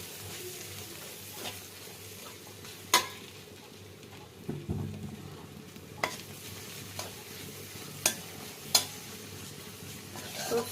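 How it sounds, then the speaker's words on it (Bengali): Onions and cumin powder frying in a pan for a Jessore-style hilsa fish curry, a soft steady sizzle broken by occasional sharp clinks and scrapes of a spoon stirring against the pot. "আমি এখন পেঁয়াজ দিয়ে দিলাম, একটু জিরার গুঁড়া দিচ্ছি"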